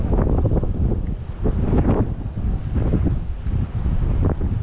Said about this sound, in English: And the wind is picking back up.